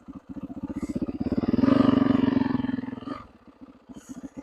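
A 450 four-stroke dirt bike pulling away in gear, its single-cylinder thump rising from idle into a loud, fast pulsing rev, then easing back to a slow loping idle.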